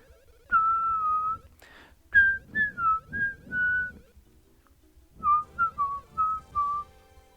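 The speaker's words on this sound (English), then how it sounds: "if you whistle with like headphones on, you can't really hear how you're whistling" A person whistles a short melodic tune in two phrases of quick chirped notes separated by a pause, close and clear with faint background rumble, beside Mario and Luigi: Superstar Saga gameplay.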